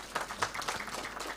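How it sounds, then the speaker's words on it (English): Short stretch of audience clapping at a university international research conference, a fairly faint, even patter of hands with a couple of sharper claps standing out. "Can we clap for them?"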